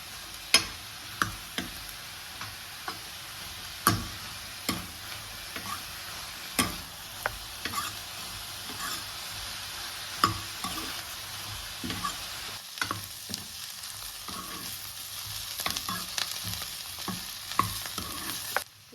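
Onions frying over a medium flame, a steady broadband sizzle with frequent sharp clicks of a spoon stirring and scraping the pan throughout, no voices.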